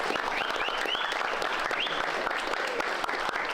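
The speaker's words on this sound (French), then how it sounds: "Je peux vous applaudir." A small group claps together after an evening's work at a pop-up store, brisk close applause lasting several seconds with faint whoops and cheers rising through it.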